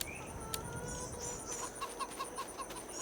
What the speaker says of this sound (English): The chickens are laughing at me.